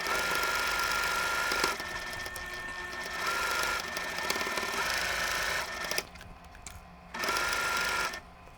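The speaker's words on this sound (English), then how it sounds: "I'm going to go ahead and stitch the rows together to complete the center block" Sewing machine stitching quilt block rows together for a pinwheel star block, a continuous close mechanical whir with brief pauses and changes in speed, then short bursts toward the end.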